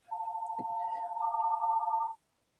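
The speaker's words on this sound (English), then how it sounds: "my phone's ringing" A mobile phone ringtone sounds during an indoor decorating class: a single steady electronic tone rings continuously for about two seconds, moderately loud and close, then stops abruptly.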